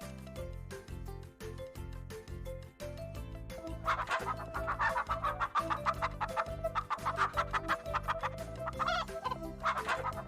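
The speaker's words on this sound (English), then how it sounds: "I am a hen. I like to cluck and talk, peck for food," A hen clucks in rapid, repeated bursts, steady at first and then growing louder and busier, heard close up against quiet farmyard surroundings.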